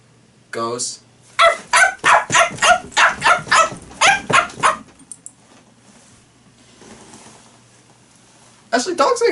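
A human voice imitates a dog barking: a rapid run of about ten loud, evenly spaced woofs, then a quiet pause and another short burst at the end.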